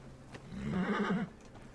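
A horse in the game Assassin's Creed Origins gives a single short neigh, with faint hoof clip-clop around it and no talk.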